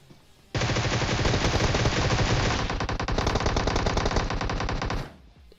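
Sustained automatic gunfire in the PUBG Mobile battle game: one loud, continuous rapid-fire burst lasting several seconds, close and dense, then stopping abruptly.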